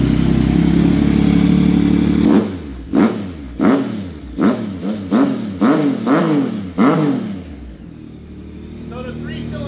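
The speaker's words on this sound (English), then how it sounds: "So the 3-cylinder engine sounds super good." A 2024 Yamaha MT-09 SP three-cylinder motorcycle engine fires up close by, then a series of about seven sharp throttle blips rise and fall in a regular rhythm before it settles to idle.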